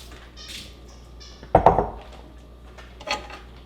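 Soaked noodles go into a pot of low-calorie broth, giving a short burst of clattering, clinking contact against the pot, followed by a fainter clink a moment later.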